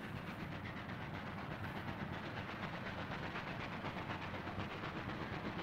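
An old steam train rumbles steadily along with a rhythmic clatter and hiss, continuous and fairly close, with no voices.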